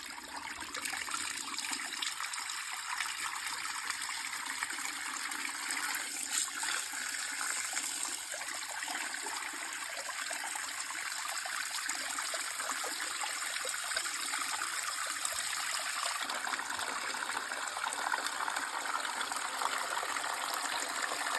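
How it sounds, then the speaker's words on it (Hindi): Water runs and sloshes steadily and fairly loudly as feet are placed into a tub of cold water. The rushing continues without a break for about twenty seconds and shifts slightly in texture partway through, with no speech. "अब मैं इनको ठंडे पानी में रख के ठंडा करूँगा."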